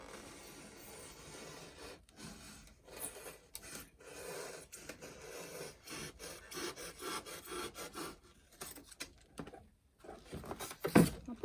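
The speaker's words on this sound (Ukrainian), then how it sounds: "Я просто зрізаю ці всі кути спочатку ножиком звичайним канцелярським." Ordinary utility knife trimming the corners off foam cloud shapes, a close, quiet scraping and rasping that continues unevenly for several seconds, with a sharper scrape near the end.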